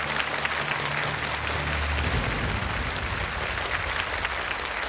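A studio audience at a televised challenge show applauds in a steady, dense burst of clapping that continues unbroken at full strength.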